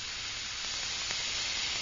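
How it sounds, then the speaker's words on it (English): An airbrush sprays thinned paint onto a 1/32 Trumpeter F-8 Crusader model kit, giving a steady, close hiss that runs the whole moment without a break. "There's our spray coming out"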